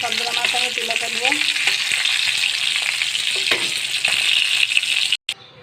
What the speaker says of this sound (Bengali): তেলগুলো গরম হয়ে যাচ্ছে, তাই আমি সবগুলো মাছ দিয়ে দিলাম